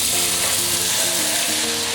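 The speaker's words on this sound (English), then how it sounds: "That had a good sizzle, didn't it?" Chopped tomatoes sizzle loudly in a hot frying pan for shakshuka, a dense, continuous crackle right up close with no talk over it.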